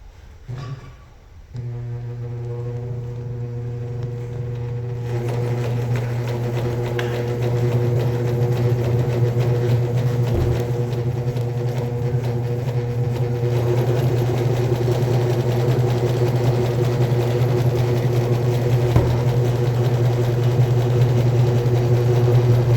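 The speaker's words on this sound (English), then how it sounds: "So let's get started stitching this thing up." A sewing machine runs steadily, stitching a seam in chair upholstery during a re-upholstery job, with a loud, continuous motor hum that starts after a brief pause and carries on evenly to the end.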